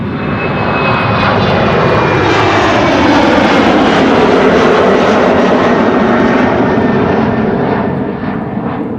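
An airliner departs Amsterdam Schiphol Airport in a crosswind, its engines a loud, steady, broadband roar that holds for the full nine seconds, close and overwhelming.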